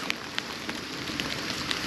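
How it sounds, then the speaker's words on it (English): Hail falls outdoors during a bass fishing trip in Texas, a dense steady patter with sharper scattered ticks of stones striking surfaces nearby, with no talking. "It's hailing right now."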